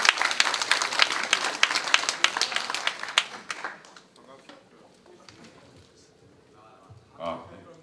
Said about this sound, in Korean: 여러분 힘찬 환영의 박수 부탁드리겠습니다